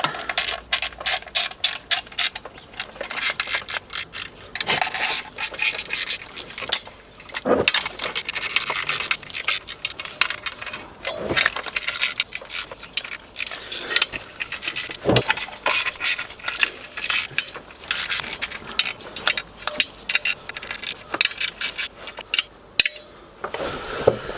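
Clutch bolts on a six-speed gearbox swap are tightened with a 9 mm twelve-point socket, giving steady clicking metallic ratcheting and scraping taps, close and fairly loud, with brief pauses.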